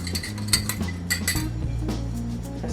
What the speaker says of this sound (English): I'm going to just quickly whisk these together before I add them to the flour.